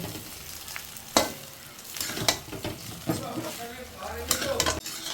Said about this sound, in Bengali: এবার নেড়ে চেড়ে মিশিয়ে নেব।